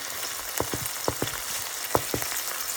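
Onions frying in a pan with green chili and curry leaves, a continuous close oil sizzle broken by several sharp pops and crackles at irregular intervals.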